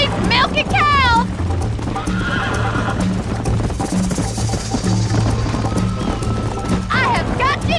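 Galloping horses in the Red Dead Redemption video game, with steady hoofbeats running throughout, loud whinnies at the start and near the end, and game music playing underneath.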